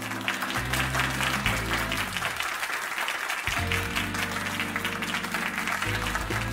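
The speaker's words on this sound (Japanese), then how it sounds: "よろしければ拍手をいただけますでしょうか" Steady in-game crowd applause in Like a Dragon Gaiden: The Man Who Erased His Name, continuous clapping throughout with a busy, sustained texture and no voices.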